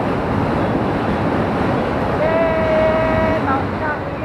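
A Manila LRT light rail train rumbles past in a broad, steady roar of street and rail noise, with a brief tonal squeal or horn-like whine rising near the end, heard close and loud.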